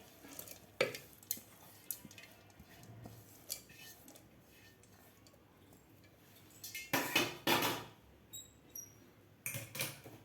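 Soaked wheat grains tipped into a metal pressure cooker while making traditional wheat kheer: soft scraping clatters, then louder rattling pours in two bursts near the end.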